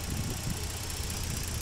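A 2013 Ford Taurus AWD police car engine runs after a jump start, giving a steady, close low rumble with no other sounds.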